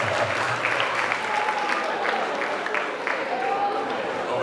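Audience applause at a TEDx-style talk, a dense, continuous patter of many hands with crowd murmur and faint voices mixed in, steady throughout.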